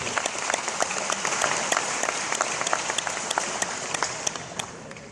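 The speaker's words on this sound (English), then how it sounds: "Let's give them a big round of applause." Sustained applause from a large audience at a high school football banquet, a dense wash of many hands clapping steadily and fairly loud throughout, with no voices over it.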